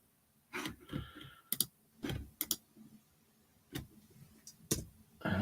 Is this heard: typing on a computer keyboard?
yes